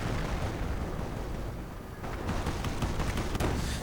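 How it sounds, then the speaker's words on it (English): Heavy vehicle gunfire and explosions rumble through a strategy video game battle involving Commonwealth forces. The clip is a dense, continuous wash of booming blasts and rattling fire with no pauses, loud and sustained throughout. "The vehicle been providing very heavy fire."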